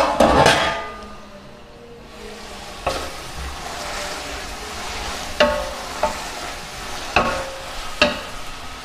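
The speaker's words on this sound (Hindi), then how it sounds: "इसको थोड़ी देर के लिए ढक देंगे ताकि मटर और गाजरें थोड़ी सी गल जाए" Peas and carrots simmer in stock in a pan for vegetable rice, a low steady sizzle broken by a few sharp clangs of a spoon or lid against the pan.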